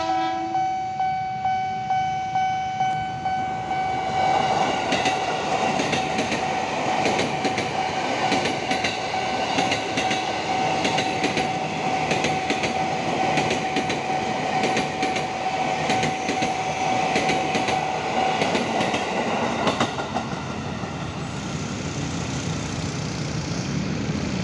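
Airport rail link train running from Manggarai toward Soekarno-Hatta station rushes past at speed, a loud sustained roar with rapid wheel clatter and a steady high tone, fading slightly at the end.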